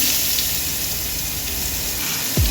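Black cumin and onion hit hot oil in a home kitchen and sizzle loudly and steadily, a dense close frying hiss with no pause.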